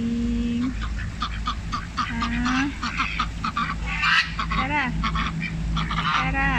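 Domestic ducks honk and quack loudly and repeatedly at close range while being fed, with a person calling out to them over the birds.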